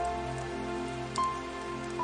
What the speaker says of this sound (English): Here comes the spring rain.